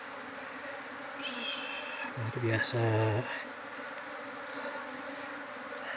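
Wild bees buzz steadily around a honeycomb dug out of loose soil, a continuous insect drone with a louder, closer burst partway through and a brief spoken exclamation over it.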